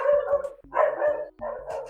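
A dog barking repeatedly nearby in a home setting, loud full barks in a quick uneven series with no talking over them.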